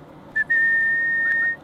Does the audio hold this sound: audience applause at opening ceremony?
no